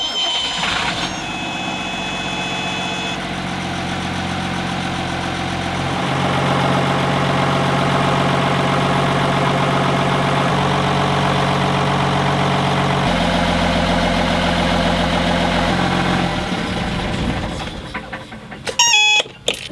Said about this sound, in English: I left it in the least amount of throttle I could give it and it just purred right along